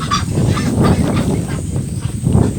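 Loud, overlapping honking and quacking calls from a flock of ducks on a farm, close by and continuous, with no talking.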